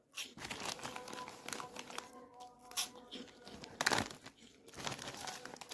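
Cheese-flavored snack bag crinkled close up, irregular loud crackles and rustles in bursts, with faint murmuring voice underneath.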